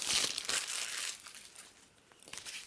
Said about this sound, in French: On a ici le carnet Arg, j'essaie d'ouvrir.